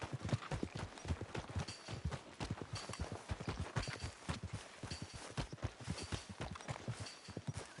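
Steady horse hooves clip-clop in a quick, even rhythm throughout in Red Dead Redemption 2, a continuous trotting beat heard up close with no voices.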